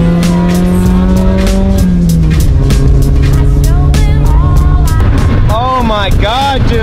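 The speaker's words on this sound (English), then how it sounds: "Go in reverse. Boom. Slam those brakes." A car reversing and then braking hard: a loud, close engine tone that rises and falls, ending in warbling tire squeals, with a person talking over it.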